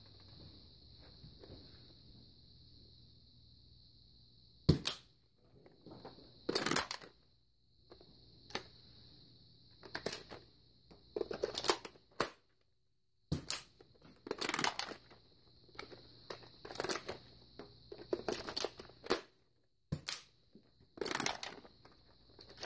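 A Nerf Zombie Strike Sledgefire break-action blaster has its barrel snapped open, a shell cartridge loaded and fired, making a series of sharp plastic clicks, clacks and thumps at close range, spaced irregularly with quiet gaps between.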